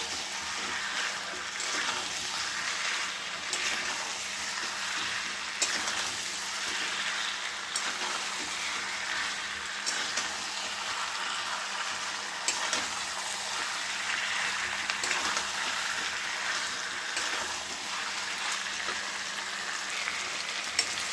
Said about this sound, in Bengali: আলু দিয়ে দিলাম, আলু দিয়ে একটু কষে নিচ্ছি।